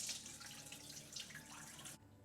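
Chana dal lentils are rinsed in water in a kitchen, a faint close splashing and swishing of water and grains lasting about two seconds before stopping.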